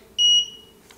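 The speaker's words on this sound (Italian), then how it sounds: "Vedete che parte un lampo e subito dopo c'è un beep." A Godox SK400II studio flash emits a single short, clear electronic beep after firing to signal it has recharged and is ready again, bright and close in a quiet room.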